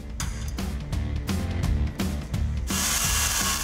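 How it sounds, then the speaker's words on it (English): A power drill whirs in short repeated bursts, drilling a hole in a Jeep Wrangler's upper control arm mount, then a loud hissing rush takes over at the end. "along with drilling a hole."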